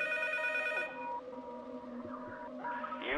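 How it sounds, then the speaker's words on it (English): A telephone rings in the P.T. Silent Hills horror game, a bright tonal ring that cuts off partway and gives way to eerie, wavering electronic tones. "And here's where the phone rings."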